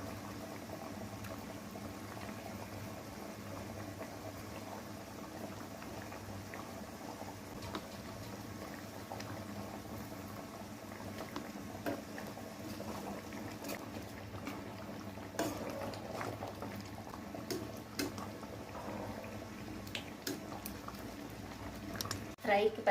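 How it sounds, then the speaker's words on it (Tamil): Sardine fish curry (kuzhambu) with tamarind bubbling in a pot, a steady low simmering burble, quiet and continuous, with a few louder clinks and stirring sounds near the end. "குழம்பு வந்து கொதிக்கிறதுக்கு ஆரம்பிச்சிருச்சுங்க."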